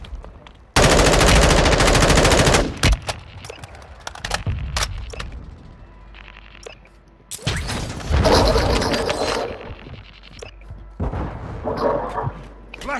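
Heavy automatic gunfire in Call of Duty: Modern Warfare II Plunder mode, loud sustained bursts with crashes and scattered shots, pausing and returning in waves, with occasional player voices.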